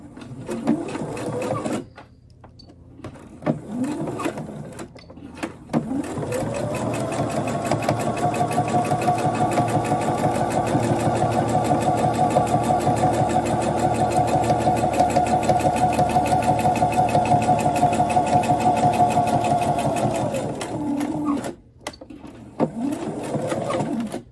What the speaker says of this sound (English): we are going to stitch these using a 1/2 inch seam allowance.